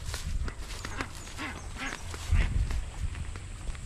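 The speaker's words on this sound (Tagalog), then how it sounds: "Itik." Ducks quack repeatedly at close range amid steady outdoor background noise, with a few louder calls rising over the din.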